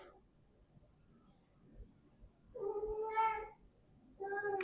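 A cat meows twice, close and fairly loud, each call a drawn-out tonal cry rising out of a quiet room, with a short pause between them.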